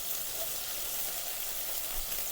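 Onions sizzle steadily in a pan on a stove turned down to low heat, a close, even hiss of frying that holds at a constant level from start to finish.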